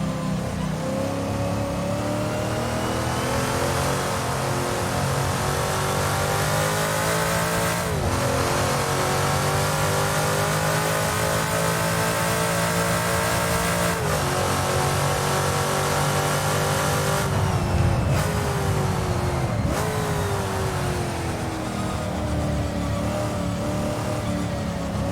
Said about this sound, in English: You get such a great sensation of driving one of these Can-Am cars, and the engine sound is just amazing